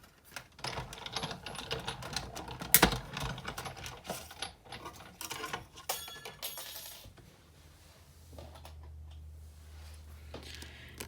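A card-making hole punch or die-cutting machine cranked over card stock, fast clicking and ratcheting with a sharp snap near the middle, then fading into low hum.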